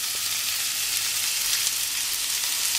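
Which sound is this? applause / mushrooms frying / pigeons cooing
mushrooms frying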